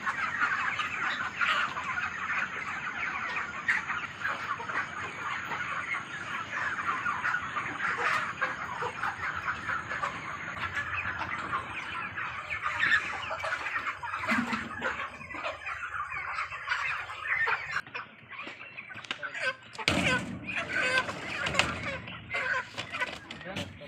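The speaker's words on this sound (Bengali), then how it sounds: "এই যে মুরগিগুলো।" Poultry chickens clucking on a poultry farm during bird lifting, a dense continuous flock chorus near and fairly loud, with brief louder bursts and some background voices toward the end.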